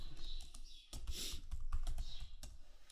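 Quick clusters of key presses on a computer keyboard clatter close by, irregular bursts of clicking with short pauses between them and no voice over the typing.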